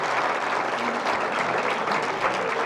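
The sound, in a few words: audience applause after lecture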